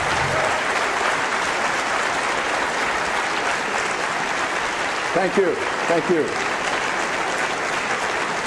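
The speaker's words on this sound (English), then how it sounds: "By your extended clapping, you're eating up into the next speaker's time." Sustained loud applause from an audience filling a hall after a speech at a creationism-versus-humanism debate, steady and dense throughout, with a man briefly offering thanks over the clapping.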